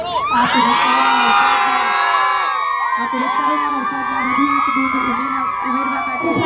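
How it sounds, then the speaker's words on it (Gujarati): Loud crowd noise at a Republic Day celebration in Jetpur Pavi, Chhota Udaipur district: a dense, sustained wash of cheering and children's shouts that holds steady throughout, with a brief dip partway before it swells again. "જોરદાર તાળીઓનો ગડગડાટ"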